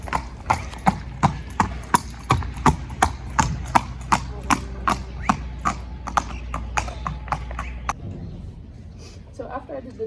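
A racehorse filly trotting up and down on a hard surface, with crisp, evenly spaced hoof clip-clops for about eight seconds before they stop, and a voice talking faintly underneath.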